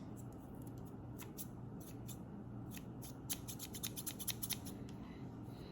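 Quick snipping of herb scissors cutting herbs, a run of sharp crisp cuts that speed up toward the end, close and fairly quiet with no talking.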